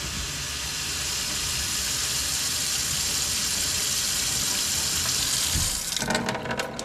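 Water runs steadily from an RV sink faucet during de-winterizing of a Salem Cruise Lite 171 RBXL, a continuous close hiss and splash. Near the end it breaks into sputtering bursts.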